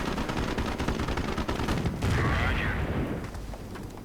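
A small gunfire skirmish in the strategy game Company of Heroes, with a dense, continuous crackle of rifle and machine-gun fire and a whooshing burst in the middle, all at a distance and steady in level.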